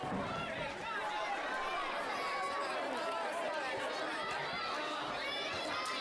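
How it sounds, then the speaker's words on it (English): Wrestling crowd at a live indoor show jeering at Jordan Kage, a dense continuous roar of voices and shouts filling the hall at a steady level throughout. "the crowd is doing their job in telling Jordan Kage that they don't think he's up for the task"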